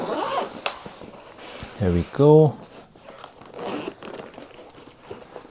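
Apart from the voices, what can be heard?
unzipping the portable car kit case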